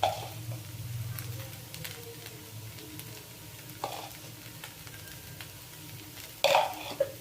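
Poha stir-fried in a pan with turmeric and salt: a low steady sizzle under soft scraping stirs, with a few sharper spoon taps against the pan near the end.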